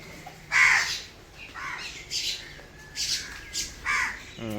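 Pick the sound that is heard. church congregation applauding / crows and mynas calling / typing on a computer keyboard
crows and mynas calling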